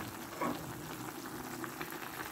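Green beans boil in a covered pot for a tagine with kofta, making a faint, steady bubbling simmer that stays low and even throughout with no voices.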